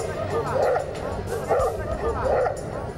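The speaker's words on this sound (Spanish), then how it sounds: "Hoy estas contiendas entre canes vuelven a entretener a los afganos" Dogs fight in Afghanistan, letting out repeated snarling barks and yelps amid a noisy crowd babble, the bursts coming in uneven clusters close by.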